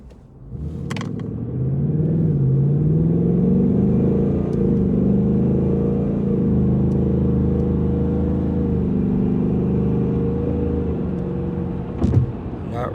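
A fast car's engine rumbles as it pulls away, holding a loud, steady drone for several seconds with a rising whir early on, a few faint clicks and a short bump near the end; no talking.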